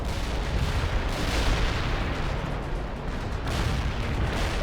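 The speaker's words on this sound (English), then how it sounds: "Carpet bombing underway" Carpet bombing in World In Conflict, a continuous dense roar of rumbling explosions and blasts, loud and unbroken throughout with a slight swell toward the end.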